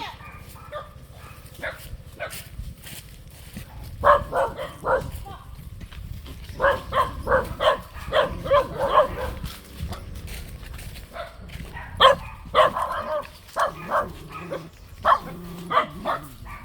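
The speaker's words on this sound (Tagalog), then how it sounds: "Ang tatapang ng aso." Several dogs bark repeatedly in bursts, fairly close, with scattered barks continuing across the whole stretch over a low background.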